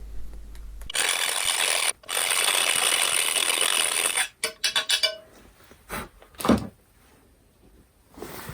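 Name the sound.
grinding out an inline skate frame for bigger wheels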